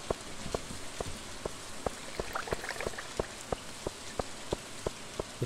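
Steady rain hisses in the Stardew Valley farming game, with soft drip ticks landing at an even, regular beat.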